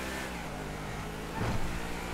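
A car engine in a video game hums steadily while driving, then swells into a brief, louder rev near the end. No one speaks.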